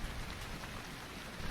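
Steady rain falls on a hiking trail in the Smoky Mountains along the Appalachian Trail, a dense, close hiss of drops hitting the ground and gear with no voices.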